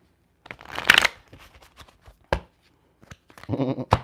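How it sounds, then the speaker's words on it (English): Deck of tarot cards being shuffled by hand, several crisp riffling bursts with short pauses between them, close and fairly loud against an otherwise quiet room. "So I'll get a little shuffle real quick, and I'm gonna use a different deck."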